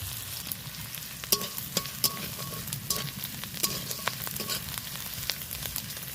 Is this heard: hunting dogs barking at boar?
no